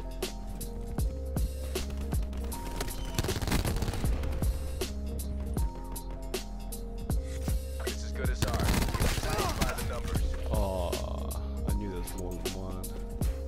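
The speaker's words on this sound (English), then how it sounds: "I'm shooting everything." Steady gunfire in a video game around a busy objective, repeated sharp shots and bursts running throughout at moderate loudness, with game effects and some voice chatter mixed underneath.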